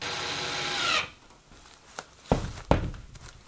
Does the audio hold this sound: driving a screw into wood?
yes